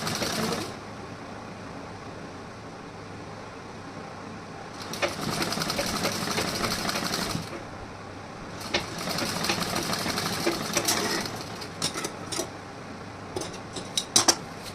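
Sewing machine stitching a blouse, close whirring runs in several bursts separated by quiet pauses, with a few clicks and handling taps near the end.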